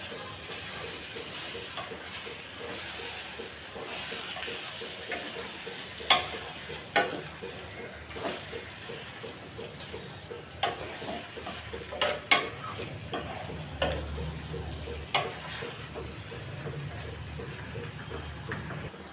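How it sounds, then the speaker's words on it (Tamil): One kilo of chicken is stirred through masala in a pan, soft scraping strokes and light clacks recurring over a low sizzle, fairly quiet with no talking. "இப்போ இது நல்லா மசாலாவோட நல்லா கலந்து விடலாம்."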